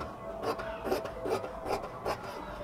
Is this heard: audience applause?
no